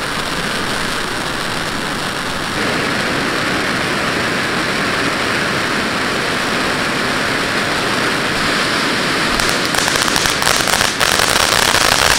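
Several firework fountains, called volcanoes, burn together in a continuous loud roaring hiss that swells after a few seconds, with sharp crackling pops breaking through near the end.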